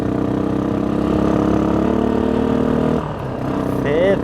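An ATV engine running steadily at a close, loud, even drone that dips briefly and then rises again, with a short burst of voice near the end.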